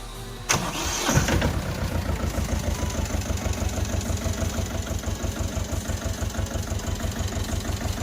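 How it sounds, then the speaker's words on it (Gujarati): A Mahindra Jivo 225 tractor engine cranks and catches near the start, then settles into a steady, rhythmic diesel idle that stays close and even throughout. "તમે આ ટ્રેક્ટરનું સ્ટાર્ટિંગ પણ મિત્રો તમે જોઈ શકો છો અને અવાજ પણ સાંભળી શકો છો"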